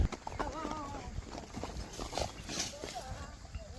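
Horses are tied outside and move about, with hooves clip-clopping in a light irregular rhythm close by, mixed with people talking.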